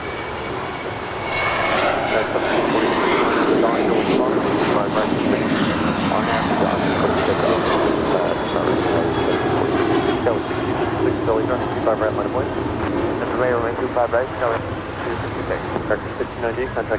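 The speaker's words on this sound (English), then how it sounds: "Our next departure is American Airlines Flight 1598 heading to Chicago." An American Airlines Boeing 737-800 departs LAX, its jet roar building after a quieter opening second and staying loud and sustained throughout, with a voice audible beneath the engine noise.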